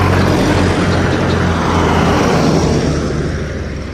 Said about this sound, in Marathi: इकडे बघा हे ट्रॅक्टरची रचना अशा प्रकारची आहे